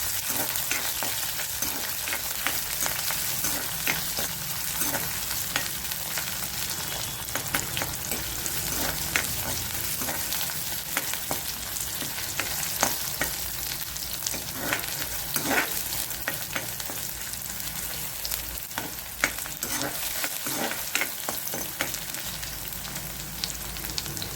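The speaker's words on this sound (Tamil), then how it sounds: "வெங்காயம் நல்ல ஒரு வெங்காயம் போட்டு வதக்கியிருக்கேன்." Onion sautés in a pan with a continuous, dense sizzle and scattered light clicks of stirring, steady and close throughout.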